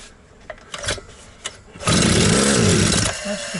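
An Alpina ABR 42 D petrol brush cutter fitted with a new cylinder gives a few pull-start knocks and rattles, then catches and runs loudly up close with a steady, pulsing engine drone.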